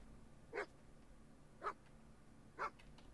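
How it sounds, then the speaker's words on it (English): A dog in the ranch video game Horse Tales Emerald Valley Ranch gives three short, evenly spaced barks, moderately close over a quiet background. "Puppy dog does not want to be greeted yet."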